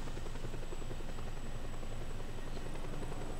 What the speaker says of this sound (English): Now I get a free weaponized helicopter.